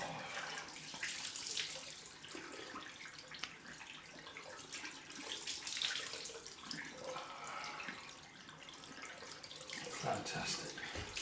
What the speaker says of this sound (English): Post-shave time, cold rinse. Let's get the water on the face.